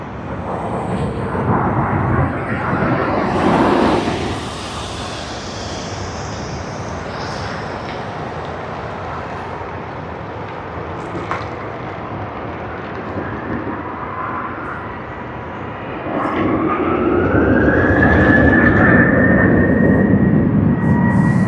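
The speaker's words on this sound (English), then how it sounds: "we should get a nice rotation of this Boeing 737 because they've started from the far end of the runway" A Boeing 737 takes off at Sydney Airport, engine roar swelling and fading, then a rising whine and loud roar building near the end, heard from a distance amid outdoor noise.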